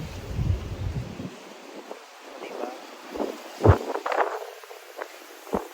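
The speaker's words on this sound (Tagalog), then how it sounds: "Apakalakas ng hangin." Strong wind gusting outdoors on a rainy night, a loud rushing roar with bursts of buffeting against the microphone and brief wind noise, with a short spoken word near the start.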